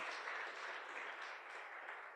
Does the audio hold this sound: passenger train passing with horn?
no